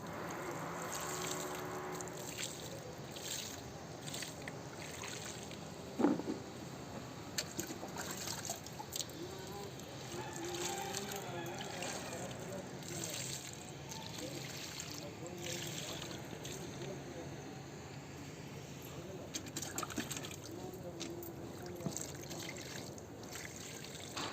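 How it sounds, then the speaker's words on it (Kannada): Water trickles and splashes as it is sprinkled over freshly planted onions in a garden bed, a steady wet patter with occasional sharper splashes and faint voices in the background. "ನೀರು ಚೆಲ್ಕೊಂಡ್ಬಿಡೋಣ"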